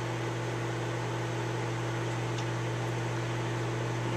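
A microwave oven runs steadily while a bar of soap puffs up and expands inside, a constant loud droning hum with a strong low tone and broad whooshing noise, unbroken throughout.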